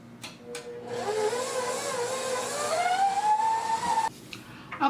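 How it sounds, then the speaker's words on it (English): A stand mixer on speed 4 kneads keto pasta dough made with lupin semolina and lupin flour, its motor whirring steadily for several seconds with a slowly rising pitch before switching off, close to the microphone. "if you're using a stand mixer. Put it on speed 4, and we'll let it knead for about 6 to 7 minutes."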